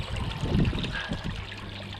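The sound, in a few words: water running through a river sluice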